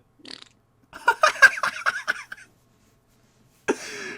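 A person blows a mouth imitation of a fart, sputtering in a short raspy burst, then a longer run of wet, rippling pulses, and finally a sudden loud blast, all close and with silence between.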